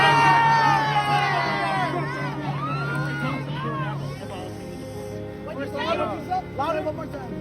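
A large crowd at a political rally about policing cheers, whoops and shouts loudly and continuously, with a dense babble of voices.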